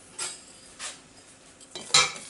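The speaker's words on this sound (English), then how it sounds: "And then we're going to mix that nicely together with a whisk" A metal whisk mixing dry ingredients, almond meal and baking powder, in a bowl, giving a few brief scraping, clinking strokes, the last one sharper and louder, with no talk.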